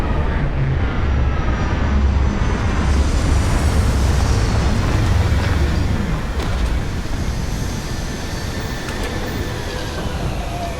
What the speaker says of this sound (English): Initiating landing sequence.